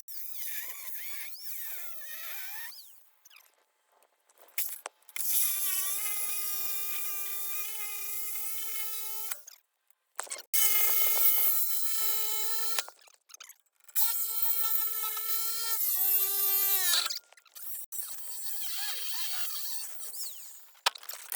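Angle grinder with a cut-off wheel slicing through tough Jeep bumper metal, a high-pitched whining screech in three long sustained bursts with brief pauses between, close and loud, no talking.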